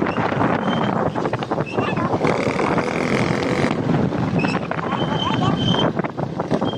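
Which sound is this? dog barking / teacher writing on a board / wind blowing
wind blowing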